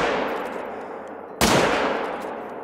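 A single sharp gunshot cracks out mid-clip while hunting a medium springbuck in a hunting video game, a loud sudden blast with a lingering tail over a quiet outdoor ambience.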